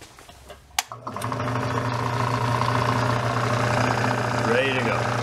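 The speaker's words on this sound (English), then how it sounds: "we'll turn on my little tiny compressor" A small tire-inflating air compressor switches on near a 1967 VW Bug and runs steadily with a constant mechanical hum after a brief click, loud and close throughout.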